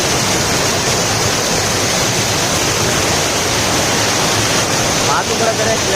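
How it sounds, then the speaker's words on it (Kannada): A waterfall roars in a constant dense wash of white noise, loud and close, with no let-up and a faint voice briefly under it near the end. "ನಮ್ಮ ಫಾಲ್ಸ್"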